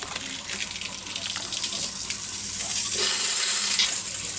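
A rotating tank cleaner sprays water inside an RV black tank, a hissing, splashing spray that grows louder and brighter partway through, close by and with no talking.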